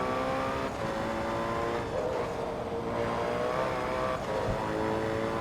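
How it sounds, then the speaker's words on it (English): A Nissan R390 race car engine in the Forza Motorsport 2 video game howls at high revs, with a continuous loud whine and brief dips between gear shifts, no voices. "I think this actually does sound like the regular R390"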